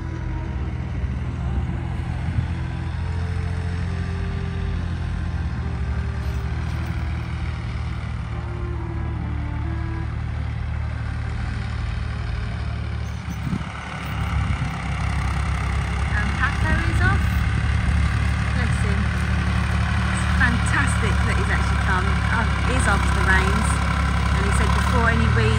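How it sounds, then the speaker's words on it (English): A tractor engine runs steadily at close range, a constant low mechanical drone through the whole stretch, passing through a farm gate at early morning, with a voice speaking over it. "Paco has just gone through the gate with the tractor, with Lassie."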